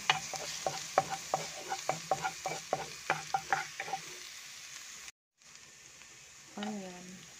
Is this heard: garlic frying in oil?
yes